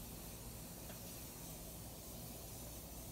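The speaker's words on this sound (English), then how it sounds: "It's like aerosol, so I feel like I can get every single spot." Aerosol makeup setting spray being misted gives a soft, continuous hiss that holds evenly for a few seconds, quiet and close, with no talking.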